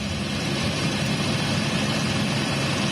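A helicopter flies over a stormy coast, its engine and rotor making a continuous, steady, loud broadband roar with no other sounds.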